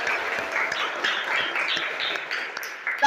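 A class claps the tepuk semangat rhythm, many hands slapping together in a lively, uneven flurry with some distinct sharper claps, ending in a loud final burst.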